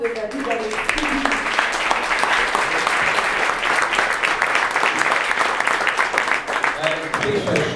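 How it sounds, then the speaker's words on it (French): An audience applauds at a centenary recognition evening of the Société Provancher, dense steady clapping from a crowd lasting several seconds before it tapers off. "une bonne main d'applaudissement pour la contribution de David Alexis"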